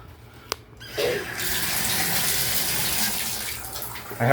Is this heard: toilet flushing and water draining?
yes